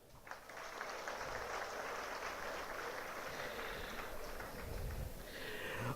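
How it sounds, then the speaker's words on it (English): Sustained applause from an audience at an institution's annual day event, steady dense clapping that fills the room for several seconds with no talk over it. "let's have a big round of applause for the engineering fraternity"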